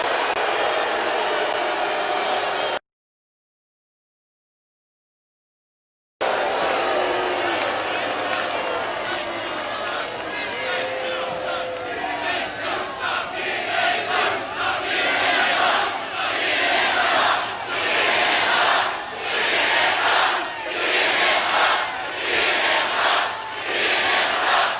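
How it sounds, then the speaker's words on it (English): A large outdoor crowd at a presidential campaign rally in Macon, Georgia, roars and cheers continuously, with rhythmic chanting swells, broken by a brief silent gap near the start. "This is a hell of a big crowd, Brad. Look at that."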